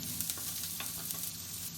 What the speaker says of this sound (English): we're gonna put the onion, and we want to hear that sizzling